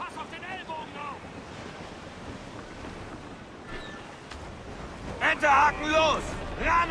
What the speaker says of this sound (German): Boah, die Welle, ey, hält uns auf. Unruhige See heute